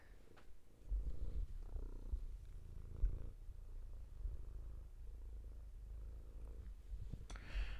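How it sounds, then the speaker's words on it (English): A cat named Binks purrs steadily and close for several seconds, a low continuous rumble with a faint rhythmic pulse and no talking over it. "gonna see how well you can hear his purring"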